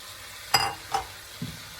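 Spoon scraping through a milkfish (bangus) filling in a pan, two quick stirring scrapes and a softer knock, close and clear over a faint background hiss.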